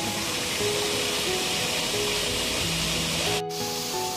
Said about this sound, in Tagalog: So, may falls doon.